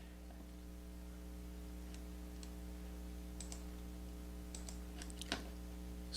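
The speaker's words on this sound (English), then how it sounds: "So I'm clicking on the shopping cart" A computer mouse clicks faintly a few times, soft and isolated, over a steady electrical hum in a quiet room.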